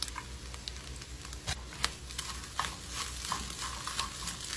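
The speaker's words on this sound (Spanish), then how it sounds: "Le voy a agregar un poco de tocineta." Bacon frying in a pan for scrambled eggs gives a soft, steady sizzle and crackle, with light scrapes of stirring throughout.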